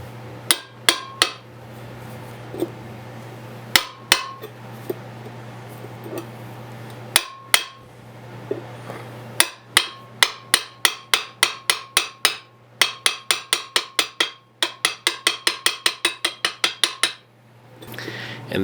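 Sharp metallic hammer blows peen over a rivet on a forged 5160 steel full-tang short sword, starting as scattered single strikes and then building into rapid, rhythmic bursts of ringing taps, loud and close.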